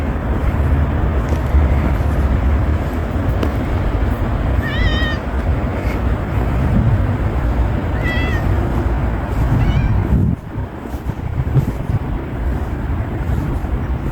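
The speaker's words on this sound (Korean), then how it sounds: "고양이는 야옹하는 울음소리를 내며 옆으로 다가와 함께 걷기 시작합니다." A stray cat meows several times as it walks alongside a person on a path, with a few short, clear mews rising over a steady outdoor rumble of distant traffic.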